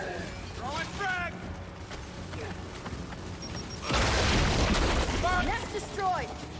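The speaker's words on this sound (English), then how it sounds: "Gotta get a frag in that thing! Throwing frag!" Frag grenade exploding in Gears of War 5, a loud close boom that swells and rumbles for about two seconds, with people talking before and after it.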